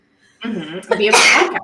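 A single sneeze bursts out at close range, loud and sharp, right after a brief stretch of speech in a casual podcast conversation.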